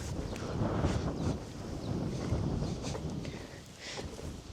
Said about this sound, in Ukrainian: От зараз вітер піднявся